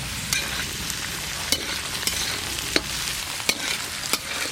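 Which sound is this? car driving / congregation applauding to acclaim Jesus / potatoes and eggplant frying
potatoes and eggplant frying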